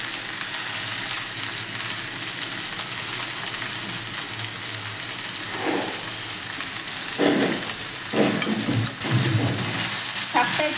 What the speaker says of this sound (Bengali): শাকটা একটু নাড়িয়ে দিলাম।